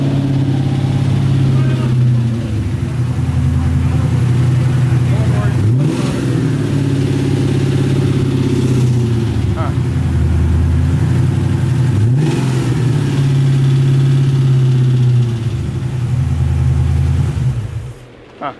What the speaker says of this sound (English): you could hear a not so great sound that usually could mean like a lifter tick